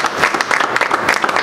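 Applause from attendees at a mayor's press breakfast: a short, fairly loud burst of many hands clapping at once, brisk and continuous for a second and a half.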